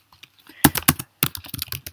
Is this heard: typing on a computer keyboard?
yes